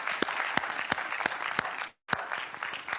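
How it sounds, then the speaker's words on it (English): An audience at a virtual summit claps steadily, a dense burst of applause with a few sharper close claps, cut by a brief dropout before it resumes. "Now clap for the creator that created you and brought you here today."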